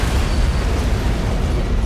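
An antimatter charge explodes aboard a ship in the video game Halo CE, heard as a loud, continuous, heavy roaring rumble that holds steady for the whole moment.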